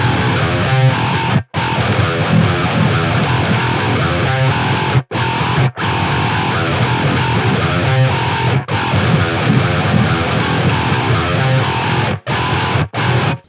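Heavily distorted 8-string electric guitar on the bridge pickup, chugging riffs with brief sharp stops and silences between phrases, loud and close with no talking over it.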